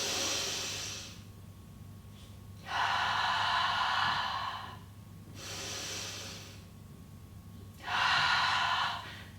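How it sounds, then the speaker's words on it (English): Slow, deep breathing into the rib cage during a Pilates exercise, long airy inhales and exhales alternating several times, close and quiet with no talking. "we breathe into our upper rib cage, and we can breathe very deeply"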